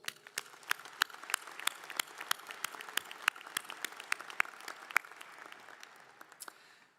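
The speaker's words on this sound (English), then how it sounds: "Another round of applause." Audience applause at a university graduation ceremony, a moderate room full of hands clapping in an irregular patter with a few sharper nearby claps standing out, echoing in a large venue and fading away toward the end.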